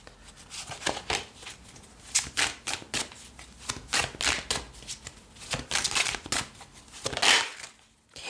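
Tarot cards being shuffled by hand, a run of crisp riffling and flapping bursts in uneven rhythm, close and fairly quiet, with no talk over it.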